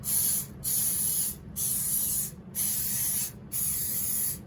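Spray bottle lightly misting a bread pan, giving five sharp, close hissing bursts in a steady rhythm with short gaps between them.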